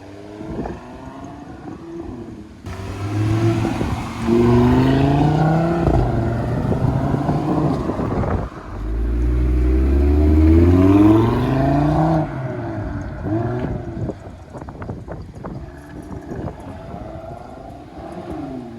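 An Audi RS3 fitted with a louder exhaust mod makes passing flybys, its loud engine and exhaust note swelling and fading as it accelerates up and down the road, with wind noise in the background.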